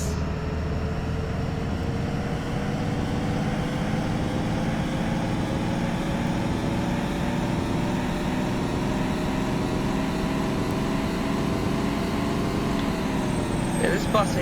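Simulated Thomas school bus engine in Rigs of Rods, a steady low drone holding the same pitch throughout as it struggles to shift, with someone talking over it.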